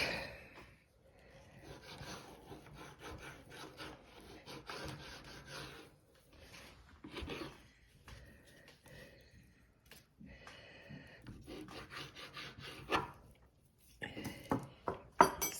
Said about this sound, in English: You take your meat and you cut it